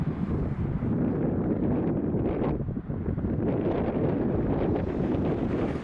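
Strong wind buffets the microphone outdoors at an abandoned ranch, a steady loud roar with rustling gusts throughout and no break.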